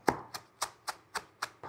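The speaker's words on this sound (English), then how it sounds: "on the cutting board, all I'm going to do is roughly chop some spinach" Spinach chopped roughly on a cutting board with a knife, seven crisp evenly spaced chops about a quarter second apart, close and clear with no talking.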